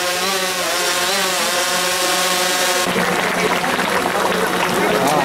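A crowd at a public meeting applauds loudly and steadily throughout, a dense wash of clapping. Partway through it swells into heavier, rougher applause, with a droning tone underneath at first.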